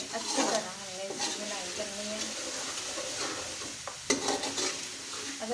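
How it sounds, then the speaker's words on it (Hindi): Chicken and potato curry sautéed in a pan, a spoon stirring and scraping in bursts over a steady close sizzle of frying, with a brief louder clatter near the end; no talking. "इसकी हमें अच्छी तरह इसकी बुनाई करनी है।"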